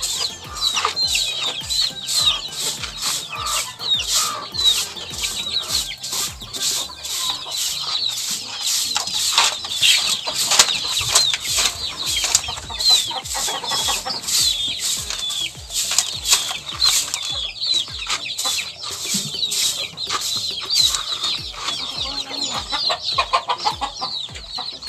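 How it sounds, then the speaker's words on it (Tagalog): Pet chickens cluck continuously nearby, with busy overlapping calls and occasional wing flaps and scratching, steady and fairly loud throughout. "Tapos magpapakain tayo ng ating mga alagang manok."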